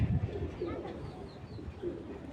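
A pigeon gives a few soft, low coos at a pigeon seller's, faint and muffled against a dull background with no clear speech.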